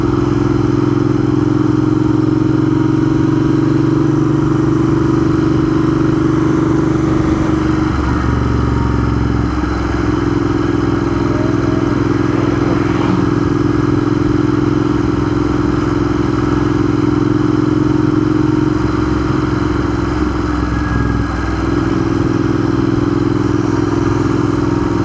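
Motorcycle ridden through the town of Stowe, Vermont, its engine droning steadily and loudly as it accelerates, with shifting tone and some clatter and wind rush, continuous with no talking.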